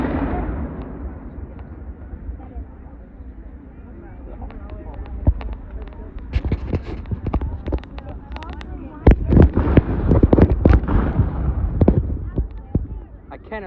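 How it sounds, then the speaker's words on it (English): Artillery cannons fire at a 2024 Battle of Pleasant Hill reenactment: sharp, distant reports build from scattered cracks into a dense, irregular cluster of blasts, with people talking nearby. "A cannon fire."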